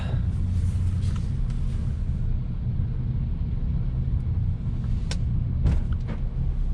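A semi truck backs under a semi-trailer to couple it, its engine a steady low rumble close by, with a few brief clunks and air hisses near the end.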